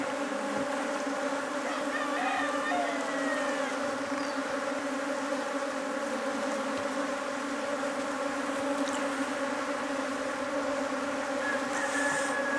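Honey bees in a top bar hive, a defensive colony with capped queen cells preparing to swarm, give a steady, close, droning hum with a few passing individual buzzes.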